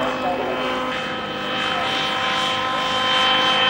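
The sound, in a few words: mini helicopter flying overhead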